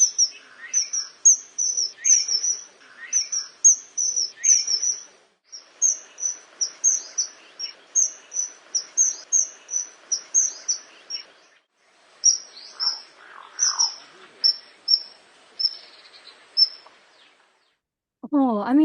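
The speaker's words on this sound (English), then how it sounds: "hearing that sound is the one thing that can lead you to know that a kingfisher is nearby" A kingfisher calls over and over in short, shrill, high piping bursts, clustered in quick runs with brief pauses between them, fairly close and clear against a quiet natural background.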